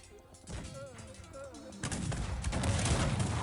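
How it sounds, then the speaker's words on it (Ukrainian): Cannon fire from a Cossacks 3 battle at Breitenfeld in the Swedish campaign, heavy booms and crashing battle noise building over a melodic game soundtrack and growing denser toward the end. "щоб зараз наші гармати по нам же не лупили тут"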